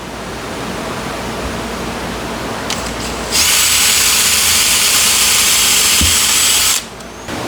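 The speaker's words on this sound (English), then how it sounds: "I'm not drilling very deep at all, just about 1/8 of an inch" A power drill drilling a small, shallow hole about 1/8 inch deep in wood whirs loudly for a few seconds, close by, starting abruptly and cutting off, with quieter mechanical noise before and after.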